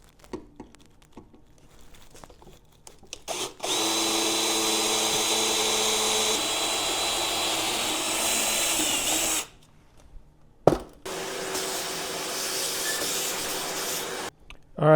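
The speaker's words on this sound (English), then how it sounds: "Now we'll drill our pilot hole." A power drill bores a pilot hole in the brake mount of an 87-96 Dodge Dakota during a manual brake conversion, running steadily for about six seconds and then again after a short pause, loud and close.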